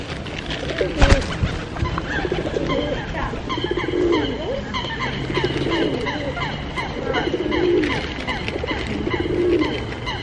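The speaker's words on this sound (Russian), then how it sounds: "Рыжий голубь!" Pigeons coo by a lake, repeated soft throaty calls in a slow rhythm over a busy outdoor background with faint voices and a sharp knock near the start.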